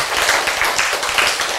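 A church congregation breaks into dense clapping during a sermon, a steady, close wash of many hands that fills the short moment without a pause, with no voices standing out over it.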